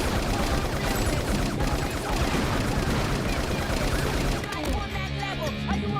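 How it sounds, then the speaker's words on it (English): Gunfire in an action scene from a Universal Soldier sequel film. Loud, continuous automatic bursts crackle densely for several seconds, then give way to a sharper, more sparse ending with clattering impacts. "some of the Universal Soldiers are taken out with gunfire"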